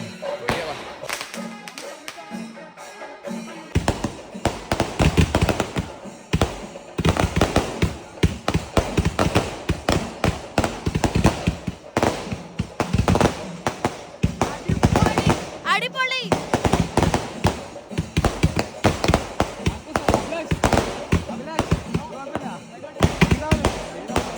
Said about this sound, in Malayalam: ബാക്കി ബാക്കി പടക്കം പൊട്ടിക്കാനുണ്ട്